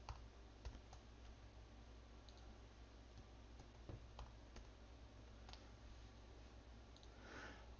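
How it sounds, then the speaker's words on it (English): Light keystrokes on a computer keyboard tap out scattered, irregular clicks, faint and close, against a steady low hum. "To label your inputs, simply click in the box above that input"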